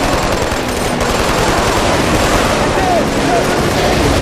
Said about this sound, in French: On tire depuis le pont!